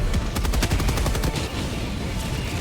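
Rapid, dense gunfire from the video game Helldivers 2, sustained bursts of overlapping shots with a mech nearby, loud and continuous throughout without pause.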